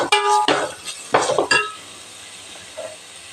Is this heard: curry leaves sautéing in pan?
yes